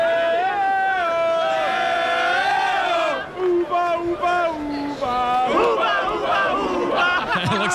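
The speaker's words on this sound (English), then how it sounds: "Each remaining player with his own unique cheering section." Live poker tournament crowd in a packed Las Vegas theater, a loud sustained roar of cheering and chanting from separate cheering sections, with melodic shouted voices swelling and shifting throughout.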